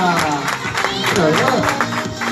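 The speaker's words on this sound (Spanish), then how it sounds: "Fuerte aplauso para él." Crowd applause and cheering at an outdoor bike trial exhibition, a steady wash of clapping mixed with shouting voices and raised chatter throughout.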